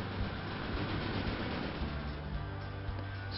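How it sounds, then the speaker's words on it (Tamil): A train pulls into a station in the railway strategy video game Railway Empire, giving a steady low rumble with faint rhythmic rolling that holds for several seconds at a soft, even level with no talk. "இங்கே வந்து பார்த்துட்டிங்கன்னா ஸ்டாப் ஆகுது பார்த்தீங்கன்னா ட்ரெயின்"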